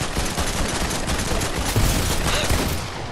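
Shotgun blasts in Fortnite blur into a dense, continuous rattle of loud, close gunfire lasting a few seconds.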